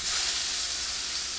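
Pork chop searing in a hot pan, a steady broadband sizzle and hiss that holds evenly throughout, close and fairly loud with no talking.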